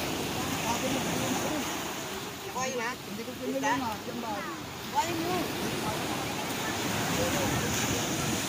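Ocean waves wash around a fishing boat at sea near an estuary mouth, a steady broadband surge with wind buffeting the microphone, while people talk and call out over it.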